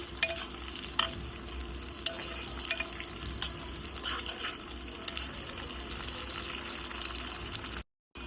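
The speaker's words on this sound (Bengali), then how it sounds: "আমার শুটকিও ভাজা ভাজা হয়ে গেছে পেঁয়াজও" Dried fish (shutki) and onions frying in hot oil in a home kitchen, a steady close sizzle with occasional stirring scrapes, then a brief cut to silence near the end.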